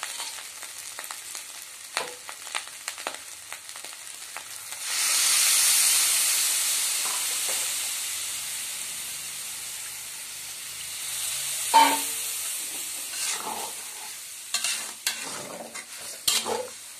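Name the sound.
water poured into pan of fried rice and vegetables, sizzling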